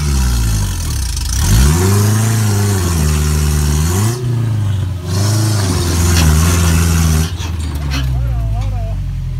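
An off-road vehicle climbing a rock ledge on a trail, its engine revving hard and loud up close with rising and falling pitch sweeps, voices talking over it.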